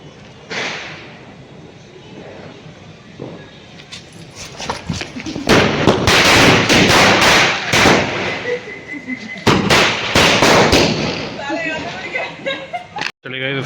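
Firecrackers bursting at an evening Govardhan Puja celebration in rapid loud volleys of sharp cracks and bangs, crowded together in the middle and trailing off, with people talking and shouting throughout.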